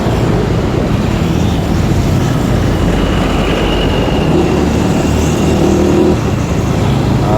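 Heavy morning traffic jam on a road, a loud, steady low rumble of engines and rolling vehicles without a break, with no talk.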